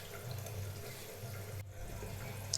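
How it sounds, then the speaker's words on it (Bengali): Red lentils are washed by hand in water, a soft continuous swish and slosh of liquid stirred in a bowl, close and quiet, with a brief pause and a small splash near the end. "এইভাবে জল দিয়ে হাত দিয়ে দিয়ে বারে বারে মসুর ডালটাকে কিন্তু ধুয়ে পরিষ্কার করে নিতে হবে।"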